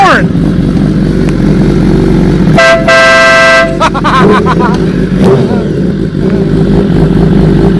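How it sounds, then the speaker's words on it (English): An air horn on a 2018 BMW S1000RR motorcycle blasts loudly for about a second over the idling engine, followed by shorter toots, with people chatting around it. "He's got the air horn that you love to put on the bike."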